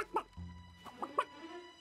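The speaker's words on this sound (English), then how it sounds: "Oh, it's the chicken." A chicken clucks in the Disney animated film Moana, a few short, sharp clucks and squawks in quick succession, close and fairly loud against a quiet background.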